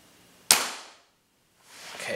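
An Air Arms TX200 .177 air rifle fires with a single sharp, close crack that fades quickly, followed by quiet and then a rising mechanical rustle, no speech.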